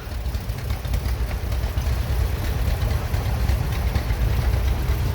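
A 1952 John Deere Model B antique tractor at a parade chugs along close by, its engine giving a steady, loud, low rumbling thump throughout the whole stretch.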